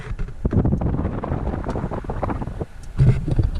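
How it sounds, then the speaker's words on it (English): Gusty wind buffets the microphone outdoors, a rough, rumbling roar that swells and dips throughout. "It's gonna be a little windy."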